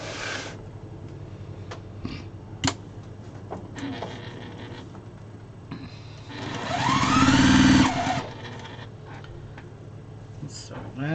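Sewing machine stitching fabric scrap strips, a short steady whir of a couple of seconds near the end, close and clear, with a person talking and light handling clicks around it.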